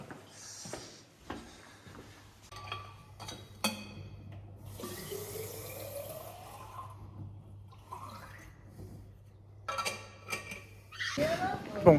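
Water runs from an outdoor tap at a gymnasium into a refillable bottle, a steady splashing stream with clinks and shifting pitch as the bottle fills, someone talking over it in places.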